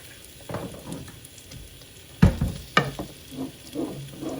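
Meat cooking in a pan for spaghetti, a soft sizzle with a few clanks and scraping stirs, one louder knock in the middle, fairly close and otherwise quiet.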